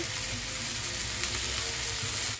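Onions fry in a pan for an okra (bendakaya) fry, giving a steady, dense sizzle up close that runs unbroken and then cuts off abruptly.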